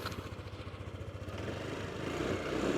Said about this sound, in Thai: เดี๋ยวบีคันเร่งให้ดู